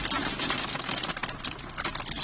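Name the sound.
hail falling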